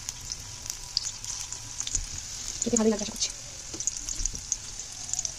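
Onion and chicken pakoras fry in oil, a soft steady sizzle with light bubbling heard close but quiet, while someone speaks briefly over it.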